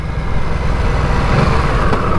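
Harley-Davidson Nightster motorcycle engine running steadily and close, a loud continuous low rumble with no break and no voices.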